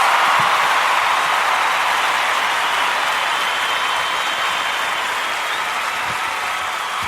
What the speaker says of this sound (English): There you go, round of applause for the NHS.